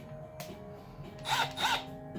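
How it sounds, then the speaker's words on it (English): A cordless drill pre-drilling screw holes: two short whirring bursts spinning up, close by, separated by a brief pause over quiet room noise. "and right away we're drilling holes"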